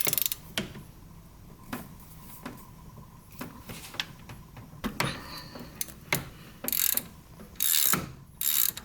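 A ratchet clicks in quick, repeated strokes while loosening a turbo oil banjo bolt, close up, with sharper metallic rattles and clanks mixed in toward the end.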